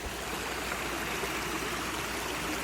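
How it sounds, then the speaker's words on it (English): A rain-swollen backyard stream rushes in a steady, dense broadband roar, loud and close with no pauses, flowing fast after a storm. "It is a rolling stream right now."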